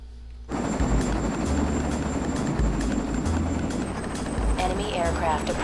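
Enemy helicopters in the Armored Core: Silent Line mech game roar with a steady rotor drone and rumble that starts abruptly and holds loud and close throughout, alone with no talk.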